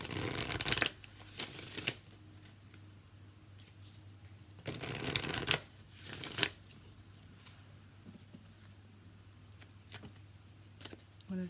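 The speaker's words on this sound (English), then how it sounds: "We're going to use the Work Your Light deck by Rebecca Campbell." Oracle cards from the Work Your Light deck being shuffled in several bursts of riffling and flicking, close and clear, with quiet pauses between over a low steady hum; no talking.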